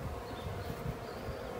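Honeybees buzzing around an open hive during beekeeping work, a soft, steady, close drone with no pauses, no one speaking.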